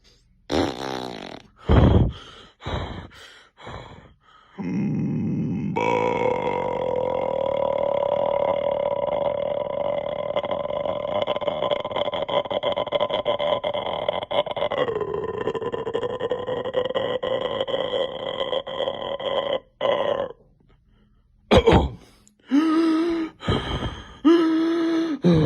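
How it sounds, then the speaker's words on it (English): A long, loud, droning burp held for roughly fifteen seconds with a wavering pitch, framed by short choppy vocal bursts and grunts before and after. "Burp. Burp. Burp."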